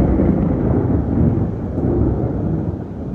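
A deep, sustained rumble of thunder following a lightning flash during a rainy spell, steady and loud throughout with no voices.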